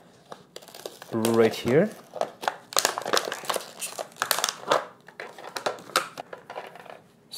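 Plastic packaging on a Feather razor blade box is crinkled and torn open in several short, close bursts, with someone talking over and between them.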